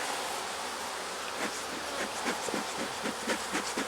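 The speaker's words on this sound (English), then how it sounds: "You can literally hear the 2 offending bees that want to sting me" Two defensive honey bees buzz near a beekeeper against a loud hissing background, the droning rising and falling in short pulses during the second half.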